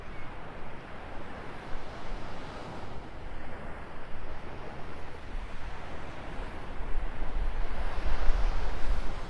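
Surf rolling onto a Florida Gulf beach at Vanderbilt Beach in North Naples, with steady wind buffeting the microphone; a continuous broad wash of waves that grows slightly louder toward the end, no voices.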